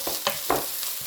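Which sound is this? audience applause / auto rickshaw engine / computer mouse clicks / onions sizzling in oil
onions sizzling in oil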